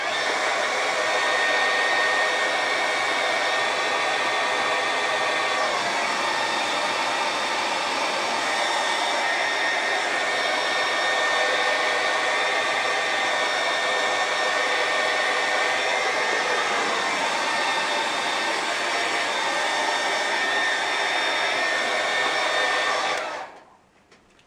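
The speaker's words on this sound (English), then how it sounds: "Take a blow dryer. I have a blow dryer." A hair blow dryer runs continuously at close range, drying acrylic paint on a canvas, with a loud steady whooshing roar that cuts off abruptly near the end.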